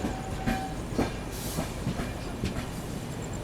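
Jaipur–Mumbai nonstop special train running at speed while overtaking a stationary train: a continuous rumbling roar with rattling clatter and scattered metallic clicks, heard from inside the moving train.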